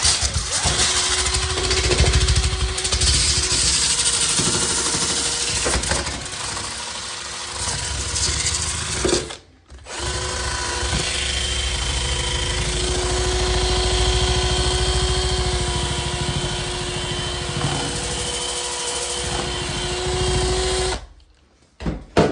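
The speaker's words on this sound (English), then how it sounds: "This is a 12-volt Milwaukee. And this will get really close all up in there." A 12-volt Milwaukee power tool runs close up while scraping silicone off a bathtub and tile wall, a steady loud motor whine with a clear hum, cutting out briefly near the middle and again at the end, with no talk.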